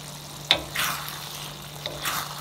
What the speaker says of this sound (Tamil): இப்போ வந்து இந்த ஹோலன் வெங்காயத்தை போடுவோம்